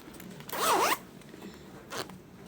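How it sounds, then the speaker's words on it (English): A zip head runner being fitted and pulled along a zipper on a handmade zippered handbag, one quick rasping zip stroke followed by a fainter shorter one, close and otherwise quiet. "the next thing is I'm going to be fixing my zip head"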